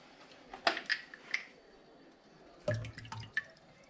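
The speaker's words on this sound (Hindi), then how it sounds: "और इसमें हम हल्का से डालेंगे गंगा जल" Ganga water is poured lightly into a ritual kalash pot, heard as a few sparse, faint drips and small splashes with quiet pauses between them.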